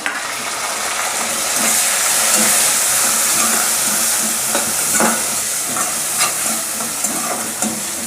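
Chopped tomato added to onions that have been sautéed pink, cooking in a pan for a rustic Maharashtrian mixed vegetable dish, a steady close sizzle and hiss with faint stirring scrapes throughout.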